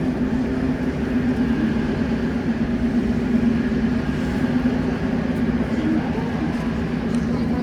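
Soviet-era subway train rumbling through the Tashkent metro, a steady low rolling drone with a humming tone, fairly loud and continuous, with a faint voice underneath.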